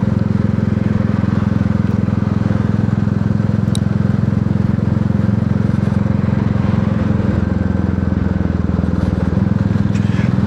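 A Royal Enfield Classic 350 single-cylinder motorcycle engine thrums steadily and loudly while riding, with constant wind and road roar throughout and no pauses.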